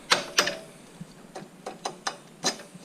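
Tools work on a motorcycle while its shocks are taken off during a swing arm bushing job: a run of sharp, separate metallic clicks and clanks at uneven intervals, close by, with no talk.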